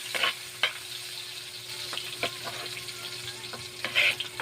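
Onion and garlic frying in oil in a pan for jackfruit humba, stirred in several short, scraping strokes over a quiet, steady sizzle, with a faint low hum underneath.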